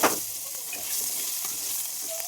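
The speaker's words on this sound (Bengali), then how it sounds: "ওই একই তেলে কিন্তু আমি আলুটাকেও ভেজে নিচ্ছি" Raw potatoes fry in oil left over from frying eggs, giving a continuous close hiss of sizzling with faint utensil touches throughout.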